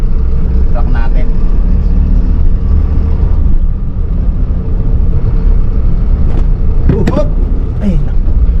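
A Hino 300 truck driving out of a port compound in Tondo, Manila, heard from inside the cab: a steady low engine rumble and road noise that runs the whole time, with a few faint creaks and rattles near the end.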